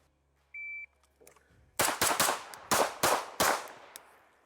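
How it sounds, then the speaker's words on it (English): Sharp, loud pistol gunshots from an OA 2311 Pro Elite 2011 fired at close range, about six cracks in quick bursts, preceded by a short electronic timer beep. "I'm going to shoot from close quarters retention on this target"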